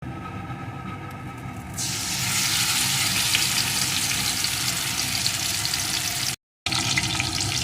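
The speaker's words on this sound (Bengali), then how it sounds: "এখন এর ভিতরে আমি যে পেস্টটি করে রেখেছিলাম ওই পেস্টটিকে ঢেলে দেব" Spice paste hits hot oil with pointed gourd in a pan, bursting into a loud, steady sizzle after a quieter start, frying continuously close by with one brief dropout near the end.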